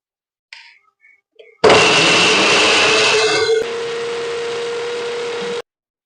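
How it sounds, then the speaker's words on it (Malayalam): A kitchen mixer grinder grinds coconut in a loud, steady motor whir lasting about four seconds, easing slightly partway before cutting off, with a few small clicks just before it starts. "ഈ അരയ്ക്കുമ്പോ സൗണ്ട് ഇല്ലാത്ത മിക്സി വാങ്ങിക്കാൻ കിട്ടുമോ?"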